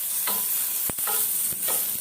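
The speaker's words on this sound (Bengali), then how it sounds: "এর মধ্যে আমি পেঁয়াজ কুচি আর রসুন কুচি দিয়ে দিলাম। এটাও হালকা ফ্রাই করে নিচ্ছি।" Chopped onion and garlic lightly frying with whole spices such as bay leaf, a soft sizzle punctuated by a few sharp stirring scrapes and clanks against the pan, close up with no talking.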